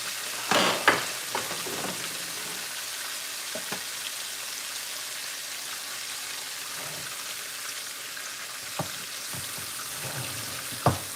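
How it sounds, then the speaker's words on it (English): Steak frying in a pan gives a steady, broad sizzle throughout, with occasional sharp pops and clicks of spattering fat and utensil contact standing out over the constant hiss. "Y'all see how this is frying up really nicely?"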